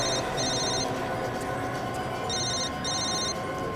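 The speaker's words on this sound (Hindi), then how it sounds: "साहब ये तो महेश का ही फोन है साहब।" Mobile phone ringing in a scene from the CID crime drama, with two repeated bursts of electronic trilling separated by a short pause, clear and steady with no talk.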